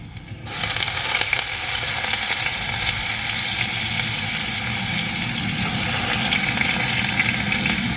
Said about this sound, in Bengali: আলুটা হালকা করে একটু ভেজে নেব